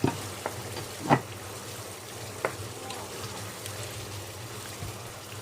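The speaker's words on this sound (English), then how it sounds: "Going to now add half a pepper, which I've chopped, and 1 chilli." Chopped pepper and chilli frying in a pan for chilli con carne, a soft continuous sizzle with a few sharp stirring knocks near the start.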